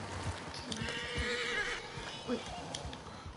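A horse in the video game Red Dead Redemption II whinnies and its hooves clip-clop, heard up close beneath a voice talking.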